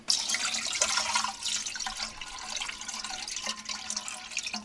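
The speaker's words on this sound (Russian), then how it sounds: "наливаем водичку" Water poured into a pot with a false bottom, about 1.5 liters filled for home-canned stewed meat, a steady close splashing trickle running throughout without talk.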